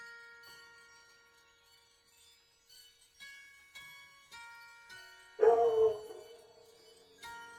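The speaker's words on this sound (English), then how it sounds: "Thank you, dogs, for being this way." Dogs howling and barking indoors: a series of faint drawn-out howls with tonal wavering, then a louder burst of barking and yipping near the end, with no speech.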